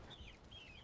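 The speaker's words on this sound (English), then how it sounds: "Oh, there's chickens everywhere." Chickens cluck in a vanilla Minecraft farmhouse build, two short rising-and-falling calls in quick succession over a faint low background hum, fairly quiet and with no talking.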